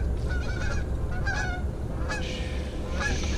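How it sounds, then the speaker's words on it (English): Several geese honk in flight during a waterfowl hunt, their calls repeated in loose bursts over steady outdoor rumble, fairly clear and moderately near. "Geese coming, straight left,"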